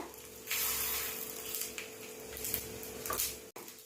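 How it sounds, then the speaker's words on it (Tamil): Urad dal frying in oil with spluttered mustard seeds and cumin, a steady close sizzle with brief crackles and stirring scrapes, no talking. "இப்போ இது கூட உளுந்து சேர்த்து சவக்கிற வரைக்கும் வறுக்கணும் நல்லா."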